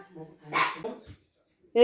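A small house dog at a family meal gives a few short yips and barks, close by and mixed with people's voices in a home.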